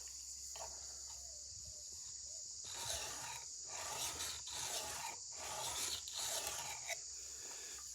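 A Sanrenmu knife is hand-sharpened on a Shapton ceramic stone, giving quiet, gritty rasping strokes in an irregular back-and-forth rhythm, close up, with no voices.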